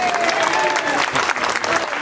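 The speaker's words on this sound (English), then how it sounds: "Dr. İlhan Sami Ezulu, let's give a round of applause." Lecture audience claps for a doctor who has just spoken, a full, steady round of applause with a faint voice briefly heard beneath it.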